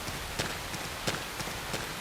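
Rain falls in the Xenoblade Chronicles X video game, a soft steady hiss with faint, evenly spaced footfall-like taps as a character runs through it, fairly quiet and with no talking.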